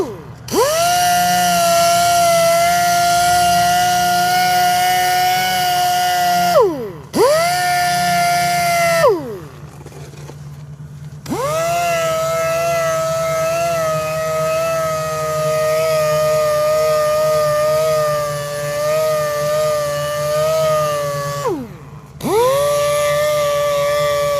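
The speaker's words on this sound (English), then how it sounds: "here we're just getting out the grinder marks and reshaping the wheel with the 320 grit sandpaper" Power tool sanding an Audi A3 machined wheel rim with 320 grit sandpaper, a loud sustained whine that spools down and up again through several short pauses, close and continuous.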